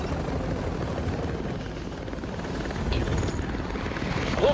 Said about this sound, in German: Hubschrauber kehrt zur Basis zurück.